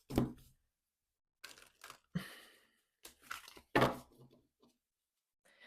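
Bursts of papery shuffling and riffling of tarot cards come in short, irregular bouts with quiet gaps between, close and fairly soft.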